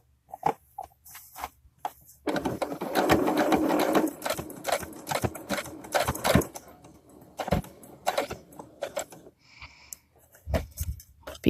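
A sewing machine stitches a dollhouse curtain with a puffy valance, running in close, loud bursts of rapid needle chatter separated by short pauses, with no talking.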